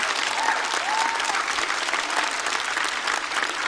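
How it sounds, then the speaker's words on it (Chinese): An audience at a stand-up comedy show bursts into dense, continuous clapping, loud and unbroken from start to finish. "掌声送给乔四爷"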